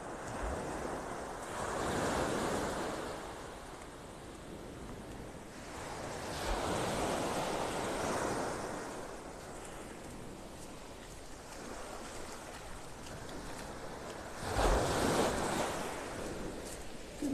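Ocean waves break on Vanderbilt Beach in North Naples, Florida, rolling in as soft distant surges every few seconds beneath steady wind rumbling across the microphone.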